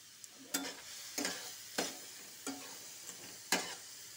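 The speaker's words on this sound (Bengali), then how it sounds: "গাজরটা ঢেলে দিব, ঘিয়ের সাথে ভালো করে ভাজবো" Carrots fry in ghee while being stirred, giving a soft continuous sizzle broken by about six sharp scraping strokes at a steady pace, close and fairly quiet, with no voices.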